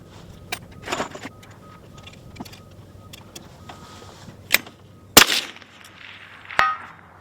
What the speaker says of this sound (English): Evan shooting the 350 steel plate